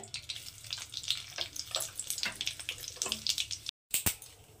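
Two dry red chillies and white cumin seeds hit hot oil in a pan, giving a steady, close crackling sizzle with sharp pops throughout and a brief silent break near the end.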